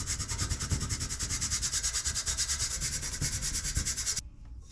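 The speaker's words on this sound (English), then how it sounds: "this is a finer screen, so we'll continue to use our soft brush" A soft brush rubs soil through a fine sieve screen in quick, steady, rhythmic scrubbing strokes, close and bright, stopping abruptly near the end.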